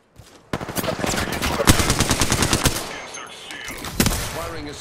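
Rapid automatic gunfire from the Apex Legends video game, a loud close burst of evenly spaced shots lasting about two seconds, followed by scattered single shots and clatter.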